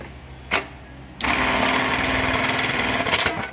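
A Juki LK1900BN bar tacker stitching a 3/4 by 3/4 inch box-and-cross pattern in Kevlar thread: a brief mechanical clack, then a rapid, steady rattling run of stitching, close and loud, ending with a couple of sharper knocks.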